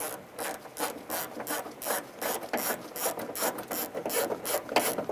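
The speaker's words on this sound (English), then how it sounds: "I'm going to put a 10mm socket and extension through that hole where the tape was. I'm going to remove that bolt." A socket ratchet with a 10mm socket and extension backs out the door handle bolt on a 2006-2012 Honda Civic, giving a rapid, close run of clicking pawl ticks in steady bursts.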